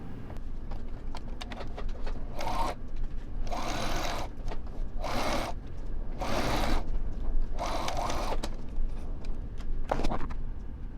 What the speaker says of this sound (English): I'm going to sew all of these fronts and backs of the sleeve together